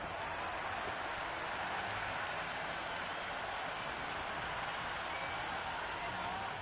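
A large cricket crowd at a T20 exhibition match roars and applauds after a six, a dense, steady wash of clapping and cheering that holds at full strength throughout.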